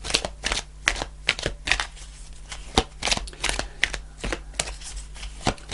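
Tarot cards shuffled by hand before a fairy card is drawn, a brisk series of crisp riffling slaps and flutters, close and clear with a low steady hum beneath and no talking.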